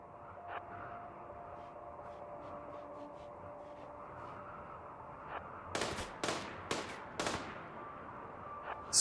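Gunfire clearing zombies in the video game RimWorld: a few sharp, separate shots crack out over a quiet, humming background, spaced roughly half a second apart.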